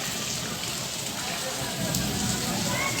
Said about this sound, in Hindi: ये देखिए बारिश हो रहा है